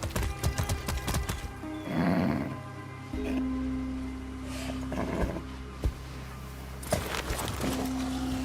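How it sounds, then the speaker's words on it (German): Clip-clopping hooves and a snorting, whinnying horse in Far Cry 6, mixed with game ambience and tonal hums, fairly close and continuous. "Das ist ein Pferd."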